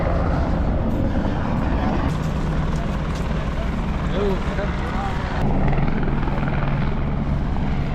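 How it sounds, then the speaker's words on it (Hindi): A helicopter thrums loudly overhead on the route from Gaurikund to Kedarnath, its rotor chop steady and continuous against a noisy outdoor background. "पूरे आसमान में पूरी जगह पे हमें केवल आवाज़ सुनाई दे रही है, जो वो है हेलीकॉप्टर की।"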